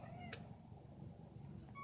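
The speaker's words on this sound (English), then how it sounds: "I think my cat wants to come in, so I'm going to let him in." A house cat meowing outside a door to be let in: two or three short, fairly faint meows spaced apart over a quiet low background hum.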